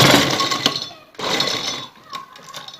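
A sewing machine stitching along a fabric edge, two short loud whirring bursts of needle motion close up, with a quieter tail at the end.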